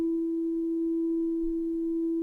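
A steady pure sine tone from a VCO oscillator module in VCV Rack, a modular synthesizer program, holding one constant pitch throughout with no talk over it.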